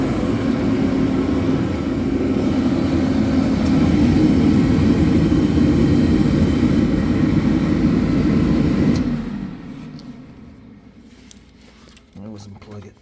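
A Mr. Heater MH170QFAVT forced-air propane heater roars loudly and steadily with a deep fan-and-burner rumble, then shuts down and the sound drops sharply to a low fading whir, with a few small knocks afterward.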